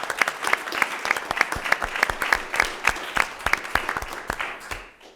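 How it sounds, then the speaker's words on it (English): Applause from a small audience at an evening special meeting of a local zoning board, individual claps clearly separated and fairly close, fading out after about five seconds. "give them a round of applause for submitting"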